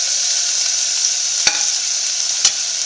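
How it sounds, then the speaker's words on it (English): Chopped garlic, onions and curry leaves sauté in a pan with a loud, constant close sizzle, broken by two sharp spatula scrapes, no talking. "Saute all this until they are lightly brown."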